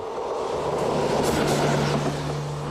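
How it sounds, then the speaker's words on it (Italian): A train rolls through the countryside near Castiglion Fiorentino, a steady, close rumble and rush of wheels on track with a low droning hum and no talking. "Un treno che corre nella campagna di Castiglion Fiorentino"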